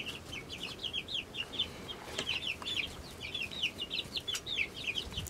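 Chickens cluck softly in short repeated bursts at a hand-carved roost, faint and somewhat distant, scattered across a quiet outdoor background.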